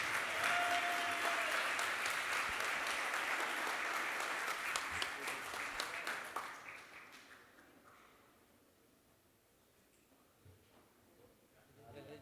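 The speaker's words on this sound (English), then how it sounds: "Another round of applause." Audience applause at the 2025 Ellies magazine awards ceremony: a full, bright burst of clapping for about six seconds that then dies away into a quiet room.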